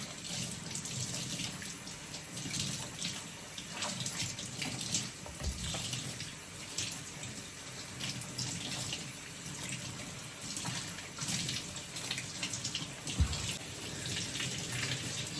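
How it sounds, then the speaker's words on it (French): Tap water running steadily over plantains being washed in a kitchen sink: a continuous splashing hiss with small shifts as the fruit moves under the stream. "Il faut bien laver le plantain parce qu'on va toucher la peau."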